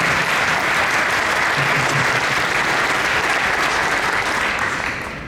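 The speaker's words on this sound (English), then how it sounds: "Let's give Tim Newton a round of applause too for helping us get this arranged today." Sustained, dense audience applause fills a room at a quarterly economic forecast development event, steady and loud throughout before tapering slightly at the end.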